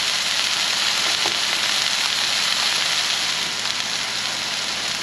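Elk burgers fry in butter with a steady, loud broadband sizzle, crackling continuously and evenly throughout with no voices over it.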